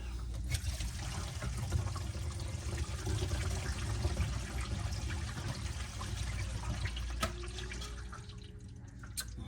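Water drains from a sink after the stopper is pulled, a steady trickling and dribbling rush with occasional drips, close and continuous with no talking.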